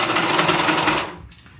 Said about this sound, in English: So I want to sew in my elastic.